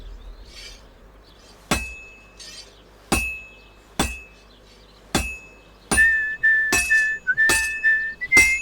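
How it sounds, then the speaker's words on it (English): A hammer strikes a sword on an anvil during smithing in Kingdom Come: Deliverance 2, giving sharp metallic clangs that ring out one by one, irregular at first and then closer together, with a bright whistling tone over the later strikes. "Now take the hammer and try hitting it a few times."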